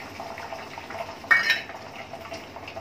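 Egg being scrambled into bhujia in a wok with white oil, heard as faint kitchen clinks and low sizzling, with one brief louder hiss of frying partway through.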